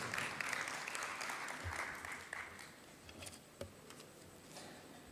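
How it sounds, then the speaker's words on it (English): Audience applause at a joint parliamentary group meeting in Nairobi, a steady, faint clatter of clapping that thins out toward the end. "A round of applause."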